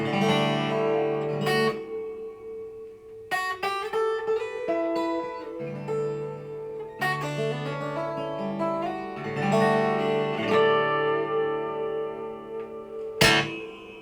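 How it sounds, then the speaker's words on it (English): Electric guitar chords and single notes played alone, washed in a spacious hall reverb with long ringing tails between phrases. "let's set it to effect number 1, which is hall reverb"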